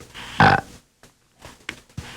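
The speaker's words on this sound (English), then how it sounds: "They learn to make an artificial burp, which sounds like this." A voice using esophageal speech forces out a deep, croaking artificial burp, followed by a few shorter guttural gulps and clicks.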